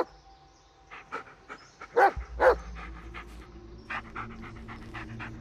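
A dog in the video game Blair Witch pants and gives short whimpers close by, with a couple of louder breathy bursts in the middle and quieter panting after.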